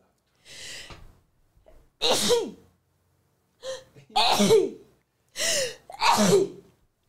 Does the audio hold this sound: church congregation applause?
no